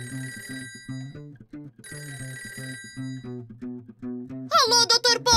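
An old-style telephone bell rings in repeated trilling bursts with a short pause between them in a children's cartoon, loud and close, before a high cartoon voice cuts in.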